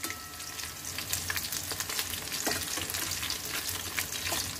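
Chicken pieces for Chicken Manchurian frying in hot oil, a loud dense sizzle with crackling pops, steady and close, as the pieces are turned over in the pan; no one speaks.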